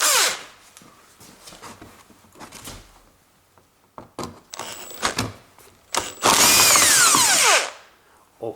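Power tool spinning out a bolt on a Toyota Avensis plastic front bumper, scattered clicks and taps followed by a loud, sustained whirring burst of about a second and a half, close up, alone without talk.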